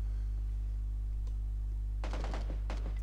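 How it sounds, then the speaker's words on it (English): Distant gunfire in the battle royale game PUBG: a short burst of rapid shots, and then another, rising over a steady low electronic hum, with a faint isolated crack before them. "Oh, I can hear gunfire. Sounds like southwest."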